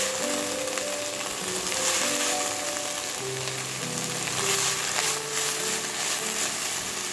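Curry leaves, mint and coriander sauté in a pan for a chutney, producing a continuous crackling sizzle with faint stirring underneath; steady, close, and free of speech.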